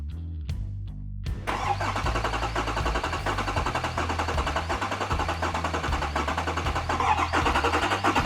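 A diesel engine with low compression cranks briefly, then fires and keeps running loudly with a rough, uneven rhythm throughout, close up, with no talking.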